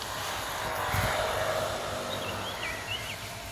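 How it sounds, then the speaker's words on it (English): An SJRC F11S 4K PRO drone flies overhead in strong wind at a lake valley, a faint whining motor buzz rising and wavering above a constant rush of wind. "I hope the drone is right on top of me now."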